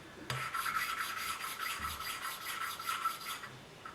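Rapid rhythmic rasping strokes, steady and fairly quiet, as a valve from a 1983 Kawasaki 750 LTD engine is lapped back and forth against its seat with grinding paste.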